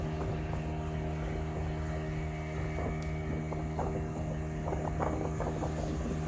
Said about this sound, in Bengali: এরপর একটি স্পিডবোটে করে আমাদের নিয়ে যাওয়া হলো লাইমস্টোন কেভের উদ্দেশ্যে